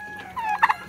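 A backyard farm turkey gives a short gobble, a quick warbling call of under a second, close by with faint ambient noise around it.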